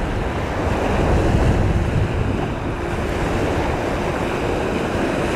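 Strong wind buffets the microphone over steady crashing surf at a beach, a continuous loud roar of waves and gusts with no voices.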